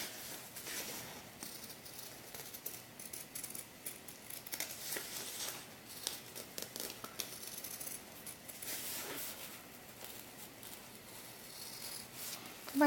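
Scissors snipping through fabric while cutting out a small doll skirt, a soft, steady run of close, faint cutting and rustling strokes for the whole stretch, with no talking.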